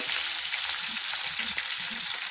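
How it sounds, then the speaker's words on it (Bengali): Mourola fish sizzle in hot oil in a pan, a dense, loud, continuous frying hiss with faint crackles, steady throughout with no voices. "মোরলা মাছগুলো ভাজা হয়ে গিয়েছে"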